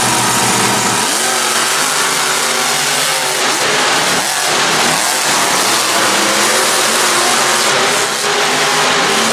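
Monster Jam trucks Scooby-Doo and Captain's Curse racing head to head at a Cardiff stadium event, engines roaring loudly and continuously as they rev and accelerate, close and saturated, with no voices.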